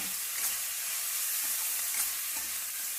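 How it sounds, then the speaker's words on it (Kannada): Tomatoes sauté in hot oil in a pan for capsicum rice, giving a soft, steady sizzle with a few quiet stirring scrapes. "ಇದಕ್ಕೆ ಟೊಮೆಟೊ ಹಾಕ್ಕೊತೀನಿ ಈಗ ಸ್ವಲ್ಪ ಬಾಡಿಸ್ಕೊಳೋಣ"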